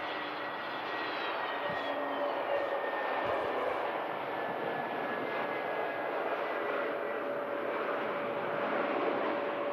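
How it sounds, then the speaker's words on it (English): A passenger airliner's engines whine and roar steadily at Manchester Airport, a loud continuous drone with rising and falling tones as the plane taxis nearby. "That's a nice plane."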